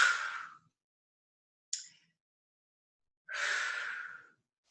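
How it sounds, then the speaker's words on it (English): Long breaths during a Pilates exercise: two drawn-out exhales and one short quick intake, close and clear, separated by silence. "Take a breath, arms up."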